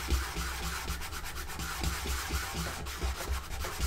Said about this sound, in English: So what I'm using is 220 grit sandpaper.